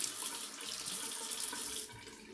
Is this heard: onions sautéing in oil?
no